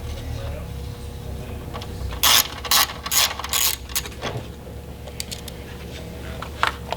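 A hand ratchet loosens a 10 millimeter bolt on a Jeep Gladiator fender. Several quick bursts of sharp metallic clicking come close up, separated by brief pauses, over a low background hum.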